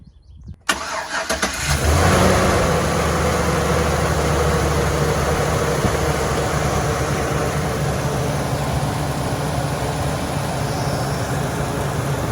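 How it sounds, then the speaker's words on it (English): A 2015 Chevrolet Silverado 2500HD pickup engine, on a previously wrecked truck, cranks and catches after a brief quiet, then runs at a loud, steady idle close by with no talking. "we just put it back on, and the motor runs"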